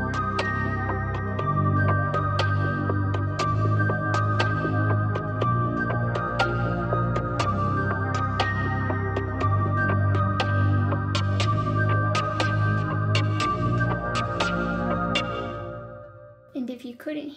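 An Arturia Mini V3 synth plays small accents that fill the gaps inside a full, steady beat with heavy low end. The mix stays loud throughout and then thins out and drops away near the end.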